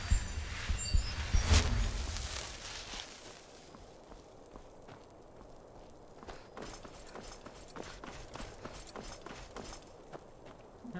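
Rhythmic hoofbeats clip-clop steadily at moderate volume, a horse walking nearby in the video game The Elder Scrolls V: Skyrim, with a brief louder thump near the start.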